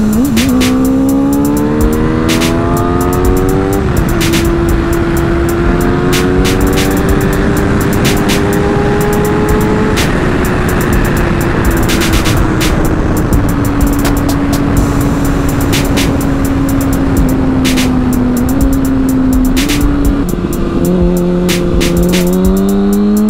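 Motorcycle engine accelerating during a ride, a loud close whine climbing through the gears with repeated rises and drops in pitch over steady wind rush.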